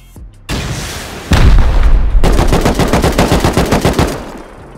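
Loud video game gunfire erupts with a heavy boom, then a rapid machine-gun burst of evenly spaced shots that rattles on for about two seconds before cutting off.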